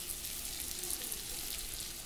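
Onions fry in oil in a pan, a soft, even sizzling hiss that holds steady for a couple of seconds, fairly quiet, with no voices.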